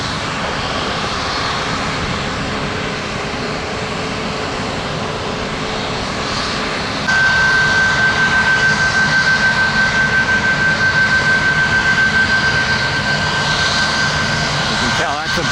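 Big jet airliner engines spool up for takeoff at Tampa airport, a loud, steady roar growing suddenly stronger about halfway through and holding, with a thin whine above it and some faint talk in the background.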